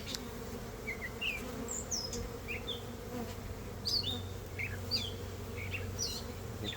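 Honeybees buzz steadily in an open hive during a mite check, a dense, continuous hum close by, with faint birds chirping in the background.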